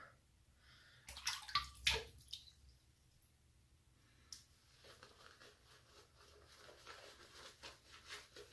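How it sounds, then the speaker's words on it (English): Water runs and splashes faintly from a tap during a shave, with a few brief louder splashes early on, then a soft continuous trickle with small clicks. "Get a little bit more water here."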